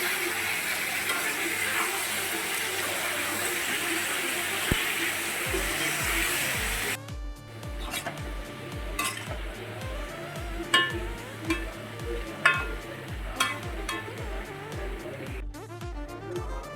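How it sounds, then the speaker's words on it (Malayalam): Vegetables for sambar sautéing in oil: a steady hissing sizzle fills the first half, then gives way to repeated scraping and clattering stirring strokes in the pan. "ആദ്യം തന്നെ എണ്ണ ഒഴിച്ച് പച്ചക്കറികൾ പെറുക്കിയിട്ട് അരച്ച് മുടി വഴറ്റിയെടുക്കാം"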